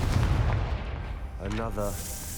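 A Confringo fire spell blasts in Hogwarts Legacy, with a heavy booming low rumble up front followed by crackling impact noise, and a voice speaking briefly midway.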